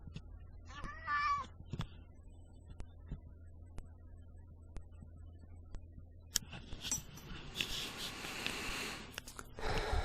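A house cat meows once, a short rising call close by, then a run of soft regular ticks in a quiet room before a burst of rustling and breathy snorting noises near the end.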